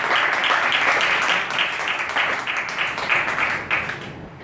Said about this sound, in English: round of applause for Pod